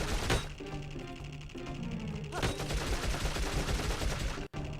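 Rapid gunfire from the PS2 game Dark Cloud rattles in dense, continuous bursts, loud and close, with a brief cut near the end.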